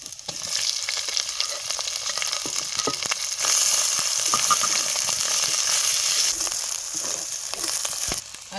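Mustard seeds, cumin and stone-ground red Kolhapuri chilli masala fry in hot oil in a village kitchen, a loud continuous sizzle that swells midway and then eases slightly, with occasional stirring clinks and no voices.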